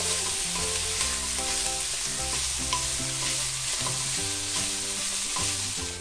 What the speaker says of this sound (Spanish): Mientras vaya dorándose el bacon